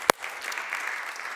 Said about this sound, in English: we'll give them applause